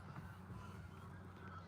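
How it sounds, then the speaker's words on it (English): Canada geese honk faintly in the distance at a Cape Breton, Nova Scotia sunset spot, a low steady murmur of calls over outdoor background noise. "There goes the geese"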